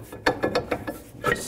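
Parking brake adjuster wheel on a 2000-06 GMC Yukon rear axle being spun, a quick run of clicking ratchet-like turns in short bursts, close and clear with no talk.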